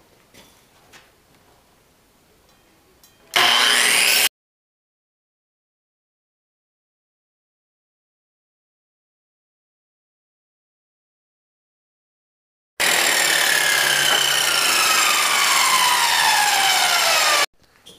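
Sawing off a piece of wood for a homemade wooden pulley: a short burst of close, rough cutting, then silence, then a longer steady stretch of sawing noise that ends abruptly.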